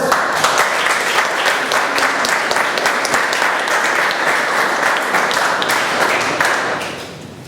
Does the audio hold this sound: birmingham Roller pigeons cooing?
no